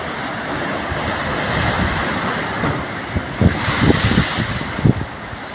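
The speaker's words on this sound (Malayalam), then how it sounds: "കടലിങ്ങനെ കയറി ഇങ്ങനെ വന്നുകൊണ്ടിരിക്കുകയാണ്." Sea waves surge onto the shore in a steady roaring wash with heavier breaking swells and strong wind buffeting the microphone, loud and close with no voices.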